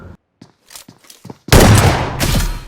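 In the mobile battle royale game BGMI, played on an iPhone 13 Pro, a few soft in-game footsteps give way to a loud, close burst of rapid gunfire that rattles on to the end.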